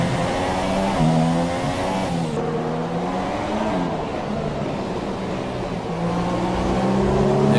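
A Formula 1 race car in a racing video game holds a loud, steady, high-pitched engine drone that rises and falls through the gears as the wheels spin on a corner exit, with no talking.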